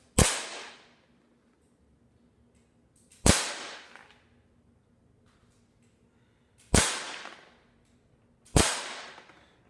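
Handgun shots fired at a target from about five yards, four loud sharp cracks with short ringing decay, spaced a few seconds apart in irregular rhythm.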